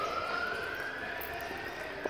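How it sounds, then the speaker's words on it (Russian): Ambulance and police sirens sounding along a city street in Spain, a steady wailing tone held at moderate distance over the hum of street noise, with no talking. "По улицам скорая помощь и полиция."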